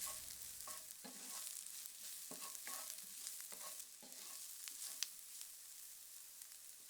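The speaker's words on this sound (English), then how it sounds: "Next, add the garlic and cook for another 30 seconds or so." Garlic sautés in a pan for a plant-based bourguignon, a constant close sizzle with scattered crackles and a few stirring scrapes, no voices.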